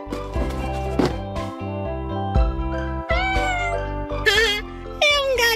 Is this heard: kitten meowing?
yes